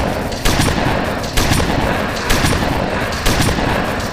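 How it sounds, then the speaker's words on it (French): A minigun turret in the Roblox game Zombie Arena fires a continuous loud, dense stream of shots in several sustained bursts, each restarting with a sharp attack, close and harsh. "c'est une sulfateuse en fait, c'est un minigun"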